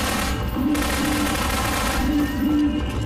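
Loud, dense gunfire fills a Half-Life 2 firefight with shotgun-wielding enemies, a constant close-range clatter of blasts with no break.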